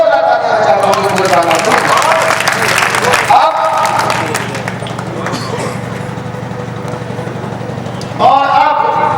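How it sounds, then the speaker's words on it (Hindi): Applause from a crowd at a school annual-day poetry gathering in Bilhaur, steady clapping across the whole stretch with loud bursts near the start and end, speech-like sounds and a low hum running underneath. "इनके स्वागत में जोरदार तालियां चाहता हूं"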